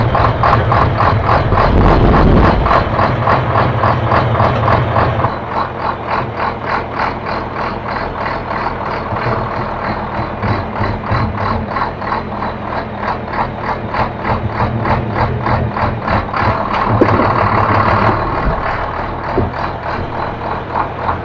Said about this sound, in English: Dad's on his way with his truck.